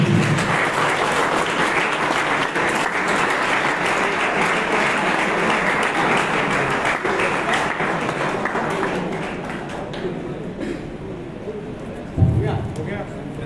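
An award ceremony audience claps in sustained, dense applause that thins out toward the end, with voices audible in the hall.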